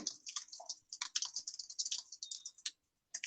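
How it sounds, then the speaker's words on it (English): Rapid typing on a computer keyboard, a dense run of crisp clicking keystrokes close to the mic, pausing briefly before resuming near the end, with no speech. "I hear typing."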